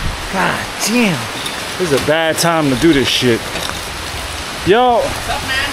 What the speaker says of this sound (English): You can hear that rain going off right now.